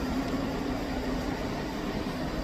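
A Scotrail train pulls out of Edinburgh Haymarket station, a steady low rumble and hum with a faint tonal whine, moderately loud and continuous with no voices.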